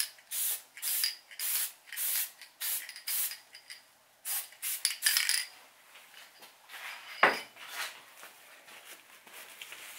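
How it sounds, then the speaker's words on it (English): An aerosol can sprays in a series of short hissing bursts onto a Halloween skeleton craft piece, close and crisp, followed by softer handling and rubbing sounds and one sharp knock. "Again, I'm going to spray."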